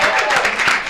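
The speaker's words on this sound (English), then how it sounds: "I just want to thank you and applaud you, Miss Carol Joyner, for being" An audience at an Equal Pay Day honors event for Black women applauds, a dense, steady wash of clapping that stays loud and close for the whole moment.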